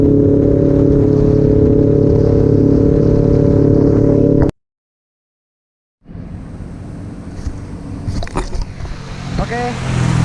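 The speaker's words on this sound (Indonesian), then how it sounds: "Suara Ninja karbu ini lebih gahar daripada Ninja yang injeksi." A carbureted Kawasaki Ninja motorcycle with an SC Project exhaust idles loudly and steadily with a deep, even rumble, then cuts off abruptly. Windy, noisy outdoor sound follows.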